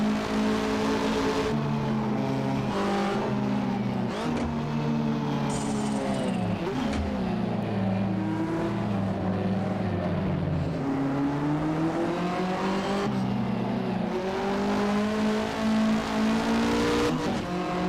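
A 1985–1992 Australian touring car revs hard around a track in the Assetto Corsa racing game, its engine note rising and falling steadily through gear changes, loud and continuous for the whole stretch.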